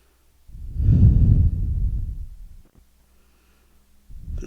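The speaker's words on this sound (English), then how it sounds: "And breathe." One long, deep, close exhale during a chair yoga session, swelling then fading over about two seconds, with a second breath beginning at the end; no talking.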